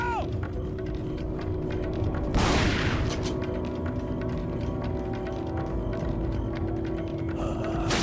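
Shotgun blast in Resident Evil 4 HD, a single loud broadband burst around the middle, set against a steady game hum with faint ambient noise before and after.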